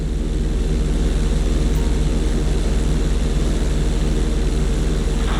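A propeller plane's engine drones steadily and loudly during a barrel roll in Grand Theft Auto 5, a continuous throbbing hum with no break.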